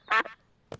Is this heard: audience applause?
no